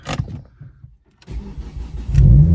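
A Ford Focus ST225 engine cranks and catches, then settles into a loud, rumbling idle close by after a brief quiet pause.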